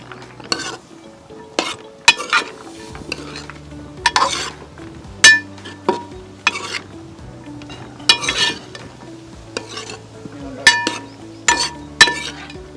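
Washed green peas go into a pan for millet biryani and are stirred, producing repeated sharp clinks and scrapes of a metal spoon against the pan in an irregular rhythm over a low background hum, with no talking.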